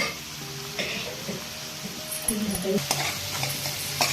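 Onions frying in a pan at home, with a steady soft sizzle under intermittent scraping and clinking strokes as they are stirred. A few faint background noises appear near the end.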